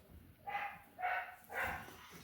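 A dog barks three times in the background at a ferret breeder's home in winter, evenly spaced bursts at moderate distance with no talking.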